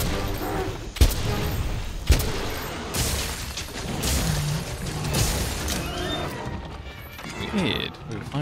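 Flares fired in Monster Hunter World burst in a busy game mix, with two sharp loud cracks early on and softer pops and rumbles after, while a voice talks over the whole scene.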